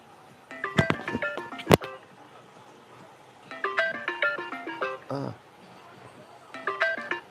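A mobile phone rings with an incoming call, a melodic electronic ringtone playing in repeated bursts of stepped tones, fairly loud and close, pausing between cycles.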